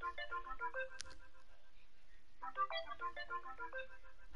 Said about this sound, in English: That's why you hear the sound of Snapchat.